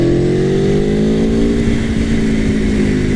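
An Aprilia Tuono Factory motorcycle engine revs loudly and close, its tone rising and falling in smooth sweeps during a ride.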